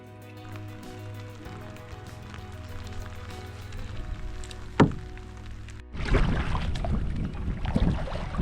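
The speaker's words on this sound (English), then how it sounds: "It's raining lightly" Light rain patters on lake water in Algonquin with a low steady hum, then a sudden rush of splashing and dripping that grows louder near the end.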